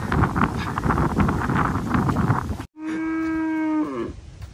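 Steady wind rushes for a few seconds along a roadside, then one long, deep moo from a buffalo rings out close by and fades.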